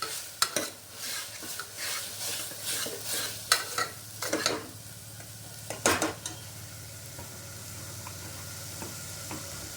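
Tomatoes and curry leaves are sautéed in a pan, with a soft background sizzle and repeated metal-on-pan scrapes and clinks from stirring in irregular bursts, quieter toward the end; no voices.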